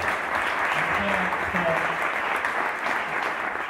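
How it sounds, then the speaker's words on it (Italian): Audience applause at a book presentation, continuous dense clapping at an even level from start to finish, with faint voices mixed in. "merita l'applauso più grosso di questa serata"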